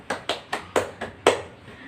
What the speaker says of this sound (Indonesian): Mari beri tepuk tangan kepada Ica.